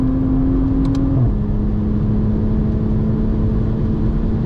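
A modified Toyota GR Supra drones steadily at speed on a race track, its engine note holding a sustained tone that shifts downward once as the driver attempts a fifth-to-fourth downshift, loud and close inside the cabin.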